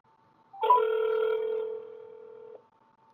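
Telephone ringback tone after dialing a number, a single steady electronic ring lasting about two seconds, clear and isolated against near silence.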